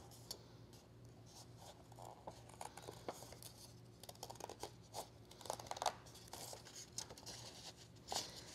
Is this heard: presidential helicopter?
no